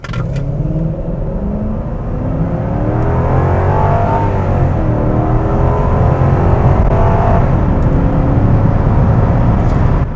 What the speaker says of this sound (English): The acceleration of this car is just, it's train-like.